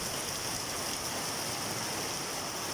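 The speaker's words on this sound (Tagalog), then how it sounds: "Lakas ang ulan." Dense, steady rush of heavy rain from a tropical storm, a constant hiss with no breaks and no voices.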